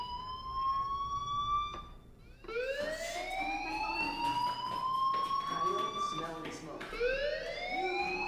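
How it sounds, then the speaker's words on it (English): A fire alarm siren in the video game Life is Strange, wailing loudly in repeated rising sweeps that restart every few seconds, with a person talking under it. "Hey, do you hear that fire alarm?"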